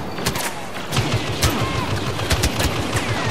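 Turret gunfire in Star Wars Battlefront, a loud rapid burst of blaster shots crackling over a dense battle din in the Sullust mission.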